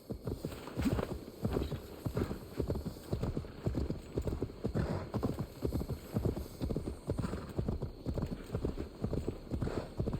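Horse hooves clip-clop in a steady trotting rhythm throughout, a continuous game sound from Assassin's Creed Valhalla, moderately close and even.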